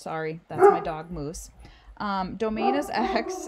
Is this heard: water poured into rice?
no